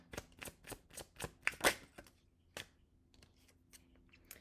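Tarot cards are shuffled in a quick run of crisp riffling snaps, close and distinct, thinning into a few scattered lighter taps before settling.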